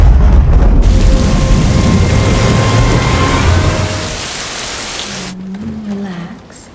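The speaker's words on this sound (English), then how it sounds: "It's going to rain." Heavy rain pours down for several seconds as a loud, dense hiss, then cuts off abruptly and gives way to a faint low tone.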